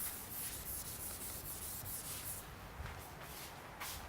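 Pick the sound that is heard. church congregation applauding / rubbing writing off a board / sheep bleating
rubbing writing off a board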